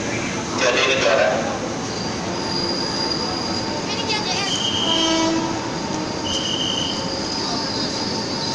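A Tokyo Metro 05-005 commuter train rolls through Manggarai station, its wheels squealing and rumbling close by, with a horn note and station announcements heard under the steady rail noise.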